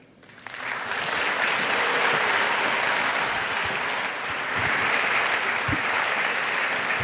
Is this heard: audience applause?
yes